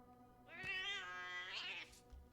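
A cat meows once in the Junji Ito Maniac: An Infinite Gaol video game, a single drawn-out, clear mew lasting over a second against a quiet low background hum.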